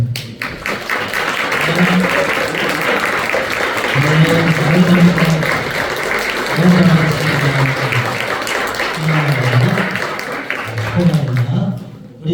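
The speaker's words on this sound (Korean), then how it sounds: "다 같이 일어나서 박수로 환영하겠습니다." Congregation at a Korean church's Christmas service in Gurgaon stands and applauds to welcome visitors, a steady wash of clapping lasting throughout, with low voices and speech mixed underneath.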